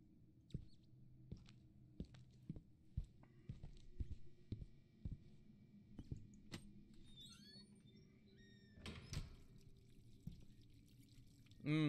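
Water effects in the horror video game Visage: a string of sharp, quiet drips and splashes spaced every second or so, with faint trickling and a brief burst of sloshing near the middle, over a low steady hum.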